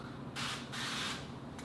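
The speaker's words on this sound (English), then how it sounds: "I'm going to spray this with a little bit of olive oil." Olive oil cooking spray hisses into a skillet in three short bursts, the last one very brief. The sound is close and fairly quiet, with no talking.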